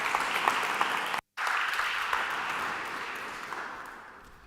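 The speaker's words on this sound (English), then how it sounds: "please give a warm applause to Dr. Hanno Sauer" Warm audience applause welcoming a speaker at a talk, a steady wash of many hands clapping that cuts out briefly, then resumes and slowly tapers off, with no one speaking.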